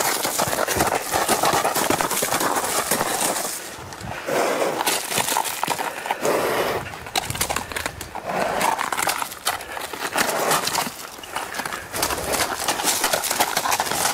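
Horse hooves clip-clop on the ground amid loud broadband rustling and clatter during natural horsemanship handling, a continuous busy mix of close hoof beats and noise.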